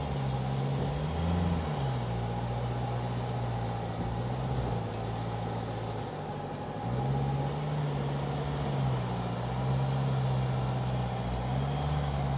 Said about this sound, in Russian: Достаточно уверенно Бигбо едет по болоту.